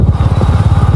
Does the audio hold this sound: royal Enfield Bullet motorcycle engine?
yes